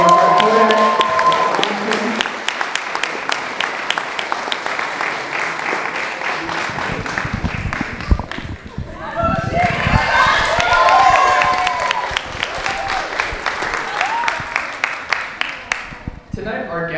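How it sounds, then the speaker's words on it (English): Audience applause at a film premiere, a dense wash of clapping from a large crowd that swells, dips briefly around the middle, then builds again, with some cheering mixed in. "let's offer a huge round of applause to our support partners, Kodak"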